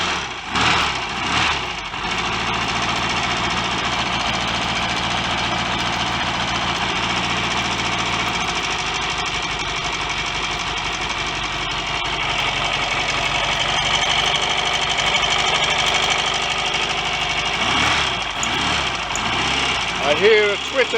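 A Royal Enfield Constellation motorcycle twin engine, with a possible leaking cylinder head joint, runs steadily at a fast idle for about twenty seconds, a loud continuous thrum with a ticking edge, after a few rough blips at the start.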